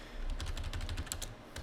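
Quick clattering keystrokes on a computer keyboard while entering a Cisco IOS router configuration command, a steady run of a dozen or so close taps with a few sharper clicks near the end, no voices.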